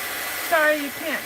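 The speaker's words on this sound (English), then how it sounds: "You're just seeing the top of the heat gun." A heat gun blows steadily while drying glue on a mixed-media doll, a constant airy whoosh with brief tonal whines rising over it midway; a voice is briefly heard.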